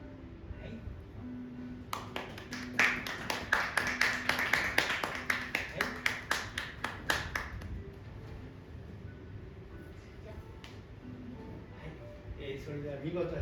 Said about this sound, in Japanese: 皆さん拍手をお願いします。